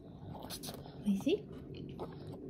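Toddler chewing meat sauce pasta with vegetables, soft wet close chewing sounds with a couple of small vocal squeaks, while an adult speaks quietly nearby.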